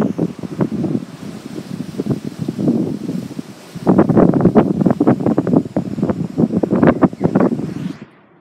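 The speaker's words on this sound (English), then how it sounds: "It is pretty windy." Strong hurricane wind roars and gusts loudly close to the microphone, buffeting in repeated bursts that build to a heavier, sustained blast midway before cutting off abruptly.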